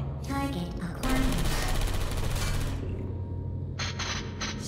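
Turret gunfire in the video game Portal 2, a loud sustained rattling burst of rapid shots lasting a couple of seconds, then a brief mechanical whir as the firing stops.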